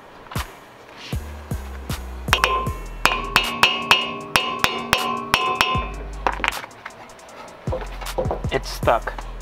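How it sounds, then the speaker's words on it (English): A hammer repeatedly strikes an impact screwdriver to break loose the screws holding a brake rotor to the steering knuckle during a wheel bearing replacement. About a dozen sharp, ringing metallic blows land in a steady rhythm, close and loud, with a few scattered knocks afterward. "I'm using an impact screwdriver to break loose the securement bolts."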